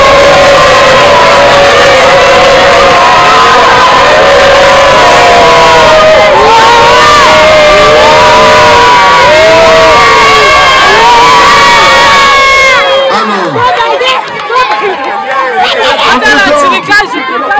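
Large crowd cheering and shouting at a traditional Congolese wrestling bout, a dense sustained roar of many voices with whoops, near and loud, that drops away abruptly near the end.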